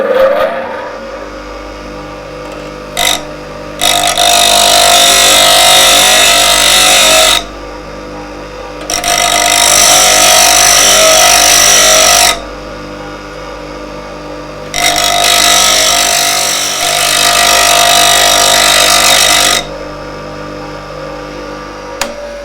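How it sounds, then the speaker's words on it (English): Chisel bevel being hollow ground on a grinding wheel, from heel to edge: three long bursts of loud, steady hissing grind with short pauses between, close and alone with a low motor hum underneath. "hollow out that so that the shape of this wheel creates the hollow of that bevel"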